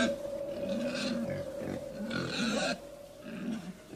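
Pigs grunt and snort as a story sound effect, low rumbling grunts repeating in irregular bursts over a steady background hum, moderately close and fairly quiet.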